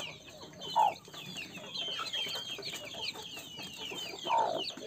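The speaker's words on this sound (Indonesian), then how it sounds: "Ayam-ayam silangan, ayam kampung dan broiler." A village hen with a brood of newly hatched broiler-crossbreed chicks clucks twice, low and close, over continuous high, rapid peeping from the chicks.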